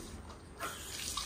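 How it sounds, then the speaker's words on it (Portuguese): Water from an automatic pig drinker on a farm pen begins to flow, a soft steady trickle that rises slightly after a quiet start, faint and distant. "Ele encosta ali e já sai água, né?"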